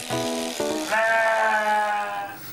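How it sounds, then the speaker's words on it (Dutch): Sheep bleating on a farm, a couple of loud, wavering calls close by with a longer, higher bleat following, no voices over them. "Ik was daar op een prachtige boerderij waar ze schapen houden."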